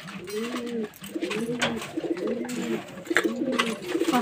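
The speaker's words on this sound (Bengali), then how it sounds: "তো বন্ধুরা দেখুন, পায়রাগুলো কেমন খাচ্ছে।" Pigeons coo steadily in repeated rounded phrases while feeding in their loft, the calls close and overlapping, with faint scuffling and pecking noises around them.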